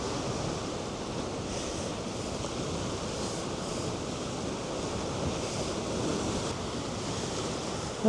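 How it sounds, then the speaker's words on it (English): Sea surf washing in on a rocky New Zealand shoreline, a steady broad roar of breaking waves holding at an even level throughout with some wind noise on the microphone and no voices. "You got the sea coming in down here."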